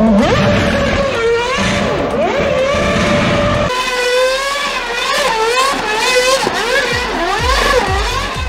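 A Red Bull Formula 1 car with a V8 engine revs during a street show in Dallas, its high shrill engine note sweeping up and down through repeated loud blips and sustained screams, fairly close, with no talking.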